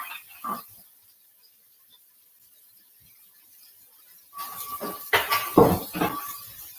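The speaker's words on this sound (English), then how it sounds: "So it's sizzling away nicely now." Turkey meatballs sizzle and spit in a hot pan, the crackle rising suddenly after a quiet stretch, with clinks of kitchen utensils nearby.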